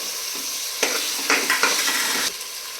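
Carrot, beans and potato sizzle in hot oil for a veg biryani, a constant frying hiss broken by several brief scraping bursts as a spoon stirs the pan, close and without talk.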